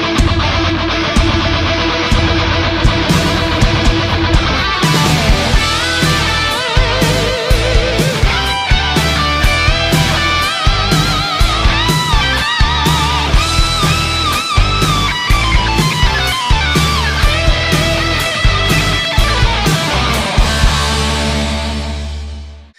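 Dense, loud rock band performance of a cover with clean electric guitar over driving drums and bass, continuous before fading at the end.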